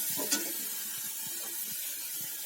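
Mustard paste water poured into a sizzling spice masala, giving a steady close hiss with a few soft stirring taps, no voices.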